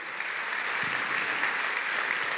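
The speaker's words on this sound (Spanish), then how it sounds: "Dale un aplauso a Jesús" Steady broadband applause from a church congregation fills the space, dense and continuous throughout, with a brief low thump partway through and no speech over it.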